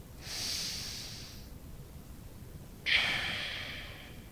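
A person doing a morning stretching routine takes two deep, audible breaths, a long airy exhale followed after a pause by a sharper, stronger one, close and clear with no talking.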